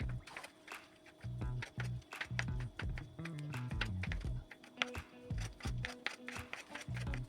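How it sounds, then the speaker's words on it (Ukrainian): A knife chops boiled chicken fillet into small cubes on a cutting board, giving a quick series of close, even taps and scrapes with short pauses. "Одне куряче філе я відварила його заздалегідь підсоленій воді. Нарізаю невеликими кубиками."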